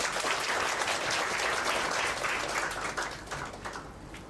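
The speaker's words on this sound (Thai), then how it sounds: "ปรบมือแสดงความขอบคุณท่านวิทยากรอีกครั้ง" Steady audience applause for a speaker at a seminar, dense and continuous, fading slightly toward the end.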